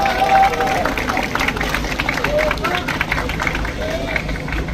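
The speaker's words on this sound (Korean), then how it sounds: "한번 힘찬 응원의 박수를 보내주십시오." Crowd at an outdoor candlelight rally in Changwon calling for the president's resignation, held alongside a construction union general strike, claps and cheers in a dense, steady wash of applause with babble and a voice over a loudspeaker.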